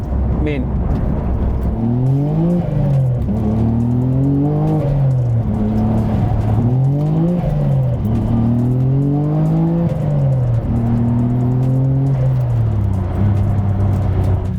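A Nissan Skyline R33 GT-R fitted with a UniClutch Track clutch drones steadily throughout, its pitch rising and falling repeatedly as it accelerates and shifts through gears, with a continuous loud roar.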